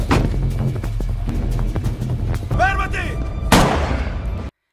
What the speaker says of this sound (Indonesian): Saat akan mengejar Rudy, tiba-tiba Santo mendengar suara tembakan.